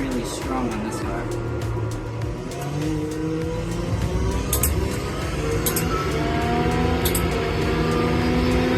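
A car engine accelerating in a racing video game revs steadily and fairly loud, its pitch climbing and shifting through gears across the whole stretch.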